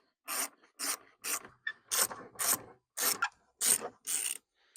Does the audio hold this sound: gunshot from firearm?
no